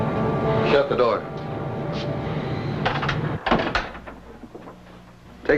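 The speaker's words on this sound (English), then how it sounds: "Shut the door." A door clunks and rattles shut amid a rumbling background, with a few more knocks and thuds following while people talk.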